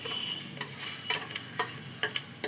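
Spiced taro pieces are stirred into a pan of sizzling fried masala. A steady close frying hiss carries a few sharp scrape-and-clink strokes of a spoon against the pan, with no talking.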